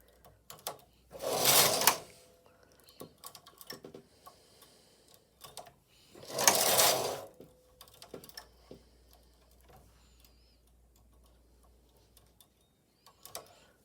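A Silver Reed knitting machine carriage slides across the needle bed twice, each pass a loud, rattling mechanical sweep lasting about a second, separated by quiet stretches with light clicks and taps.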